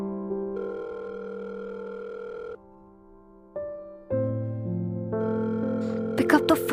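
A phone plays steady electronic calling tones while a call is being placed, a sequence of sustained pitched beeps that shift and pause, ending in a brighter burst of chimes, clear and close.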